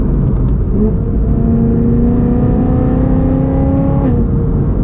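Modified 2008 BMW M3 engine accelerating from inside the cabin, a loud steady drone climbing in pitch through the revs, with a brief dip near the end like a shift.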